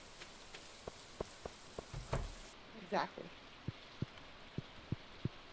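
Game rain in Stardew Valley falls as a soft, constant hiss with scattered drop ticks, while a person briefly speaks over it.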